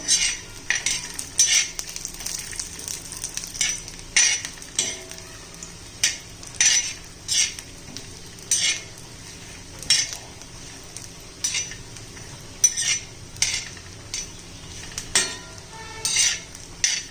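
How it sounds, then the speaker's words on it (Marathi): Chopped coconut roasting in a pan with ginger-garlic paste, stirred with a metal spoon that scrapes and clinks against the pan in repeated bursts over a low sizzle, close and fairly loud. "खोबरं टाकून घेतलेलं आहे त्यामुळे खोबरं भाजून घेऊया"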